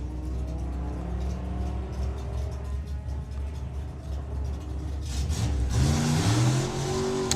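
A V8-engined Morris Minor drag car at a nostalgia drag racing meet revs loudly and accelerates, the engine roar building and rising in pitch toward the end, heard up close and steady throughout with no talk.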